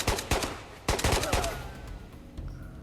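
Rifle fire in the video game Ghosts of Tabor: several sharp shots in quick bursts, a pair at the start and then a tighter cluster, with a softer report near the end and no talking.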